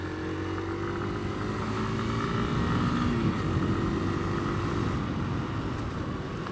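A Suzuki VanVan 200 motorcycle with a big tyre rides across sand, its engine a steady, loud drone that rises slightly midway, heard up close and alone.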